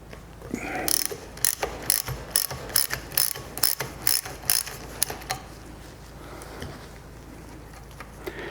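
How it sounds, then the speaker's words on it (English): Parts of a Fox or ACT shock absorber, its piston and valve stack, being removed: a close run of sharp ratcheting clicks in a quick, even rhythm, then quieter handling noises. "now we're going to remove the piston and the valve stack."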